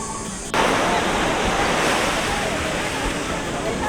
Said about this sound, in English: this beach is amazing. This has to be the perfect one I've seen here in Sayulita so far. Just protected by this bay, just very placid waters